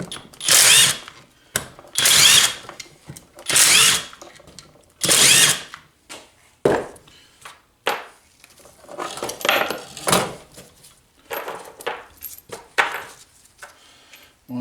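A power drill spins out the sump bolts of a Briggs & Stratton 3.5HP vertical-crankshaft lawnmower engine in several loud whirring bursts, followed by softer clattering and ratcheting as the bolts and parts are handled.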